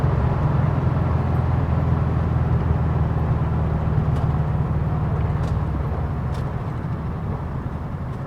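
A 1974 VW Beetle engine hums steadily after a downshift to third, a low continuous drone under road noise that eases slightly toward the end, with no talking.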